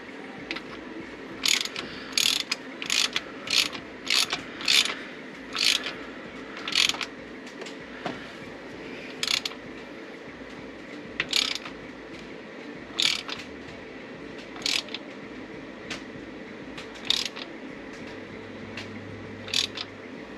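A ratchet socket wrench loosens bolts while an electric fan is installed on a dirty coupe, giving repeated short, sharp clicking bursts at an irregular pace, close and fairly quiet over a low background hum.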